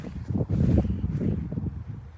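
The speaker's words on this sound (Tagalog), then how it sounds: "Ang lamig ng hangin" Gusty cold wind buffets the microphone with low rumbling bursts in an open field, rising and falling unevenly over a couple of seconds.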